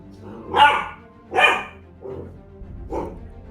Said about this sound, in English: Very loud puppy.